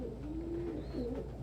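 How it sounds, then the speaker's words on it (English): Pet doves give a soft, low cooing call indoors, one short rolling coo followed by a second fainter one, close and quiet over a faint background hum. "God bless you, bird children."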